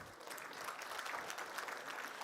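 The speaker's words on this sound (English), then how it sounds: "Please give them a round of applause." Audience applause at a reception for Bangladeshi physicians in North America, a steady round of clapping from a moderate crowd, fairly soft and distant, lasting throughout.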